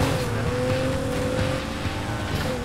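A Nissan GT-R races in the video game Need for Speed Heat, its engine holding a steady high drone with a faint tire squeal, loud and continuous, with no speech.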